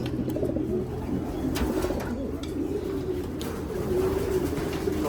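Pigeons coo repeatedly in low, throaty rolls in a loft hit by a viral illness, several birds close by with a constant soft background hum.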